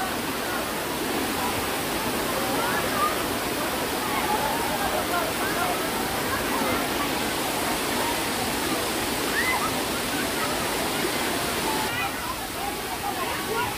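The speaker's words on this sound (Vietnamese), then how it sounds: "cái thác à, chảy từ trên kia xuống" A waterfall flowing down from above at a summer cave site, a dense, constant roar of falling water heard close up, with no pauses.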